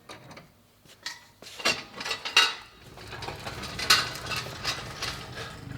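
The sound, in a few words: hopper tank placed and locked onto Egholm CR 2260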